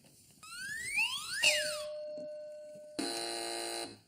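Quiz show contestant buzzers on a British comedy panel game sound as rising and falling electronic tones that overlap, followed by a loud, steady, harsh buzz lasting nearly a second, with no talking.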